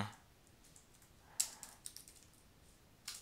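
A few scattered key presses on a computer keyboard, quiet and close, in short irregular clicks separated by silence.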